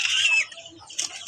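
Chickens cluck and squawk in sharp, bright bursts, one at the start and another about a second later, close by with no talking.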